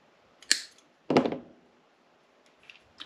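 Snips cut an LED lead while fitting it to a GM automatic climate control board, two sharp close clicks half a second apart, followed by faint light taps in a quiet room.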